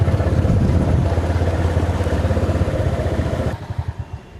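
A tractor working the ground at a sports stadium, its engine chugging loud and close with a steady rumbling throb that eases to a lighter idling putter near the end.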